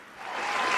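An audience at a poetry recitation by Rahat Indori breaks into applause, clapping that swells quickly from quiet to a loud, dense crowd of hands within a second.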